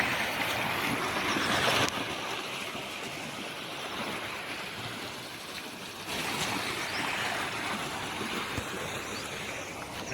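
Steady rushing water flows without pause through a small minor irrigation canal of the Narmada canal system, a broad continuous wash of sound with no voices.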